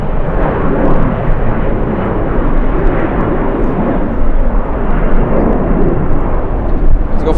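A Boeing 777 at LAX in strong winds, a loud continuous low jet engine rumble with heavy wind noise throughout, no clear talk.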